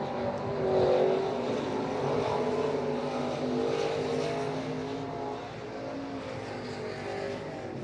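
Stock cars race at Eagle Raceway during a heat, their engines a continuous, loud roar that surges early, then eases slightly as the pack moves on.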